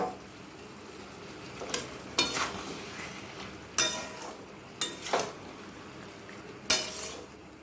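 A spoon stirs jackfruit curry cooked with milk and cashew in a pan over medium-low heat, with a soft steady sizzle broken by several sharp scrapes and clinks of utensil against metal, close and without speech.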